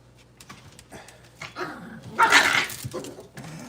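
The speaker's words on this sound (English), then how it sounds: "I have a dog named Cinnamon" A Chihuahua-mix dog barks and whimpers in a few short, fairly close bursts, with one louder yelping outburst near the middle and softer whines around it.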